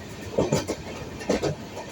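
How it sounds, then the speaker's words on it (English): A passenger train travelling through Madhya Pradesh rolls along the rails with rhythmic clickety-clack bursts from the wheels over joints, heard from inside the carriage over a steady rumble. "Traveling in a train is always very entertaining."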